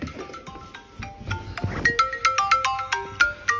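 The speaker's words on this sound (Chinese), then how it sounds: "你来电话了，显示你哥。" An incoming call sets off a phone ringtone, a bright plucked melody of quick repeated tones that plays loud and close, alone in a quiet room.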